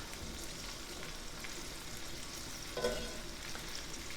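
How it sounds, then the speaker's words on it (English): Sausage and whole sage leaves frying in melted butter make a continuous, fairly quiet crackling sizzle, heard close with a slight swell near the end and no speech. "Let that butter melt."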